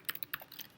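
Fast, light keystrokes on a computer keyboard, a quick run of faint clicks lasting under a second with no voice.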